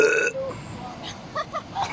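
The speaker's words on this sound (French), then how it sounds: "t'as envie de roter?" A loud, drawn-out burp at the start, followed by quieter vocal sounds and soft murmurs afterward.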